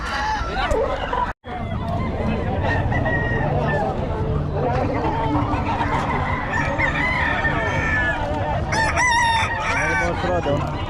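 Many roosters crow and hens cluck in a busy poultry market in Bocaue, with steady crowd babble and talk throughout; one brief gap near the start, and crowing calls overlap at close and middle distance.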